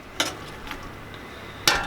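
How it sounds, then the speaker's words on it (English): A diced yellow onion being stirred while it sautés in melted butter in a pot, with a few sharp utensil scrapes and clinks over a faint background sizzle. "going in with one yellow onion diced, and we're just gonna kind of saute this a little bit"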